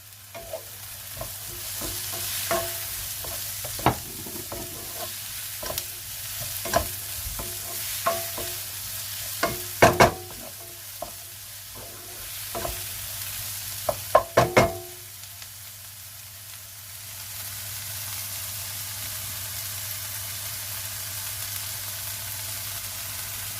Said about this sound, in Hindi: ये थोड़े से मटर डाल दिए, थोड़ी सी शिमला मिर्च डाल दी, सौते किया।